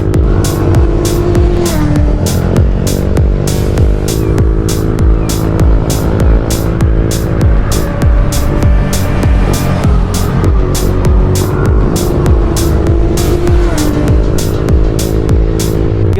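Motorcycles, a Honda Click 125 and a Yamaha MT15, run at speed on Biliran island. A loud, sustained engine drone shifts in pitch, with a rapid, regular ticking throughout and no talking.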